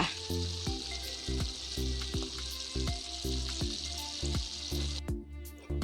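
Fermented catfish frying in a pan, a steady dense sizzle that runs unbroken throughout, with rhythmic musical tones playing over it.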